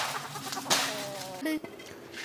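Chickens cluck on a small farm where goats and kids are also kept, a short nearby burst of fowl calls standing out over a quieter background with a few brief squawks.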